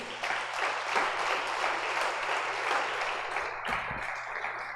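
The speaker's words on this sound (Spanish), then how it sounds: "Dale ese aplauso a Jesús" A church congregation at a Spanish-language service claps in a dense, even burst of applause that fills the room and holds steady for several seconds, with a slight swell near the end.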